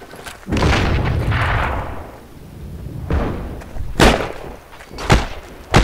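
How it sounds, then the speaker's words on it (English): Grenade blasts in the shooter game Heroes and Generals: a deep, loud boom with a rolling rumble tail, followed by further sharp thuds and gunfire cracks at irregular intervals. "throw another grenade"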